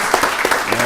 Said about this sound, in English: Give the Executive Director Rutledge another round of applause.